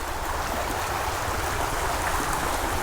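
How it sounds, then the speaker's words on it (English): A small creek at the edge of a Colombian town in Santa Fe de Antioquia, flowing in a steady, close, continuous babble and rush of water with no voices. "There is a little creek,"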